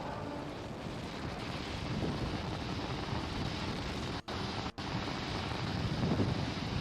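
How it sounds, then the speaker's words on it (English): Merlin rocket engines of a Falcon 9 launching the GPS III-4 mission roar steadily during throttle-down through max dynamic pressure, a loud, continuous wind-like rumble with two brief dropouts, no talk. "we're heading into the throttle bucket as we power down the Merlin engines"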